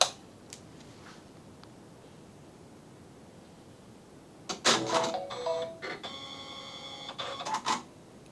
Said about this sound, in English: Turning the machine on.